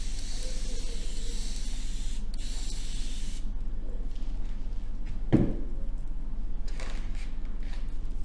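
A steady hiss of a water sprayer rinsing paint off furniture runs throughout, with a brief louder blast partway through and faint clatter in the background.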